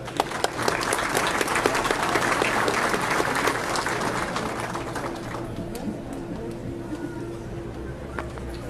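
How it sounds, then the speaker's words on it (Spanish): A local audience in Otavalo applauds an engineer speaker who designed a road plan: dense, close clapping that swells, then thins out and fades to quiet room noise. "Le recibimos con un fuerte aplauso"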